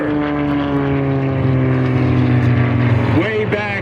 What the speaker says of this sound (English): There's the rudder kick. It is the hammerhead stall turn.